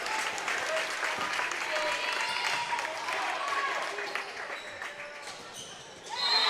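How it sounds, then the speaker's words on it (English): Crowd applause in a gym at a girls' high school regional final volleyball match, steady clapping throughout with a swell near the end, under an announcer's voice. "the crowd starts to take a stand here and gives the round of applause to these Hawkettes"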